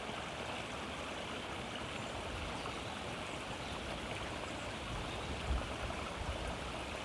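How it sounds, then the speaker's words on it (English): A stream flows steadily, a continuous broadband rush and trickle of water at moderate volume with a brief gurgle near the end, alone without talk. "and the sound of the water"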